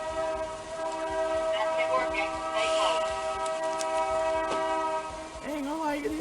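A train horn blows as a long, steady multi-tone blast that holds for several seconds, loud and close, with a shorter wavering call near the end and voices in the background.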